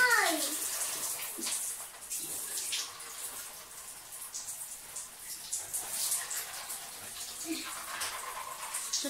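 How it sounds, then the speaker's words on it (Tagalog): Water splashes and pours in uneven bursts, like scoops from a bucket tipped over a body during a bucket shower at a mountain home, with a voice briefly audible in the background. "Supposed to be you go shower like this."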